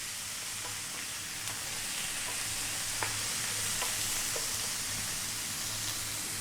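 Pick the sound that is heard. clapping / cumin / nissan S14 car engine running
cumin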